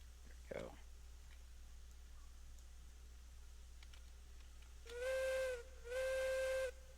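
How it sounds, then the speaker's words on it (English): Steam whistle in a logging video game, sounding two sustained tonal blasts near the end, moderately loud, after a brief faint chirp and light clicking over a low background hum. "your whistle sounds rather hauntingly close"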